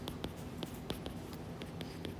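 Pen or marker scratching across paper while a physics problem is written out by hand, a steady quiet scrape broken by several short taps and stroke marks, with no voice.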